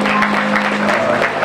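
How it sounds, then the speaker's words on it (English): An audience at a community breakfast event gives a round of applause, brisk steady clapping from many hands filling a large room. "Please give her a hand clap."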